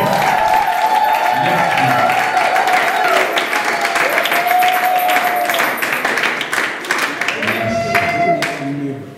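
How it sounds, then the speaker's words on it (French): A church wedding congregation bursts into loud, sustained applause and clapping that fills the room, mixed with a voice speaking over it and a crowd murmuring throughout. "Est-ce qu'on peut acclamer pour la gloire du Seigneur?"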